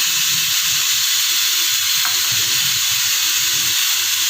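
Constant loud hiss of a spoonful of oil heating in a hot pan for a ridge gourd stir-fry, steady throughout with faint low clatter underneath.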